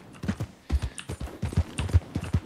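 Horse hooves clip-clop in the video game Red Dead Online, a steady trotting rhythm of close, distinct thuds repeating several times across the clip with no talk over them.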